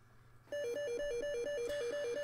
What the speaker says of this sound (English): when the ball does break through the top, it makes the neatest sound